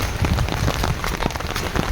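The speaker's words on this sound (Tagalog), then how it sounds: "Nabutan na kami ng ulan." Steady rain pours down outdoors, a dense, continuous patter of drops striking a surface, fairly loud throughout with no voices.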